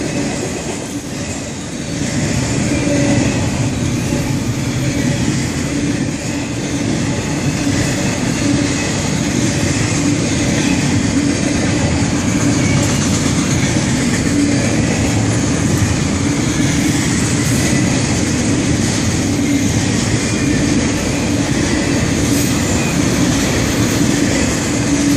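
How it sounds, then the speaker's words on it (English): A long FEC freight train rolls past at Holly Street, a steady loud rumble with continuous wheel clatter and rail noise lasting the whole stretch, no talk. "Jeez, this train is ridiculously long."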